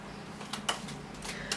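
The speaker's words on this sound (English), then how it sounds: "I'm using the pre-Raphaelite tarot deck, giving it a shuffle on your behalf" A pre-Raphaelite tarot card deck being shuffled, giving a few soft, papery riffles and flicks close by in a quiet room, with no talking.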